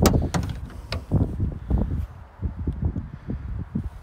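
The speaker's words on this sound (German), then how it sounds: "Zack, machen wir mal die Tür auf." The sliding side door of a Volkswagen T6 campervan rolls open in a continuous rumble of rattles and clunks, loud and close, with outdoor wind noise behind and no talking.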